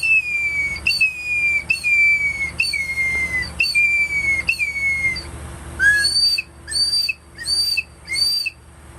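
A handmade wooden eagle whistle is blown in a series of piercing, descending hawk-like shrieks, five longer calls followed by several shorter, higher bursts with brief gaps between them.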